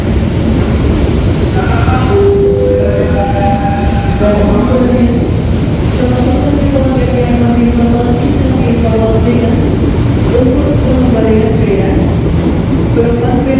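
The Blambangan Express passenger train passes close and loud, with steady rumbling wheels and shifting metallic tones, while a voice talks over it.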